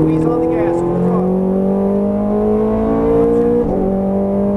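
A Ferrari F430 Scuderia pulls at full throttle on a racetrack, its engine note climbing steadily and loudly in a sustained high-revving wail, with a brief shift near the end.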